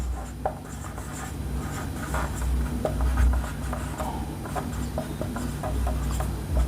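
Pen writing by hand on paper, continuous scratchy strokes with small ticks and taps, close and steady, with low room hum beneath.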